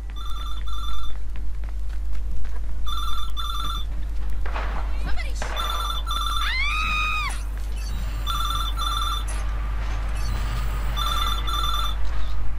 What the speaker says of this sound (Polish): I tu gdzieś telefon dzwoni.